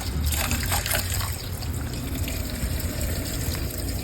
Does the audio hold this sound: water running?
yes